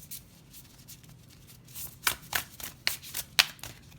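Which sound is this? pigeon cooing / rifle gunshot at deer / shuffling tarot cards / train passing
shuffling tarot cards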